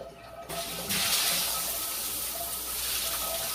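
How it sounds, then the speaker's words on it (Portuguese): A shower is turned on and runs in a steady, close hiss of falling water, rising abruptly after a brief start. "Vou ligar novamente o chuveiro, ela vai continuar."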